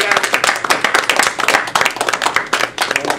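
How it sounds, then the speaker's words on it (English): An audience applauds a speaker at a lecture on Marxist revolution, a loud, dense and continuous wash of many hands clapping that fills the room throughout. "So let's have a round of applause for him again."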